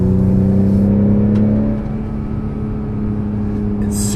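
A 2021 Acura TLX engine rises in pitch as it accelerates in sport mode, a steady drone with a mechanical whir close by, easing slightly midway before building again.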